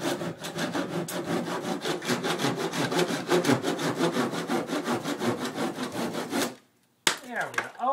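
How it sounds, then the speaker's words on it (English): A hand saw cuts through a charred beam made of two 2x4s in fast, even back-and-forth strokes for several seconds, then stops abruptly; a short scrape follows. "So I'm sawing away at this."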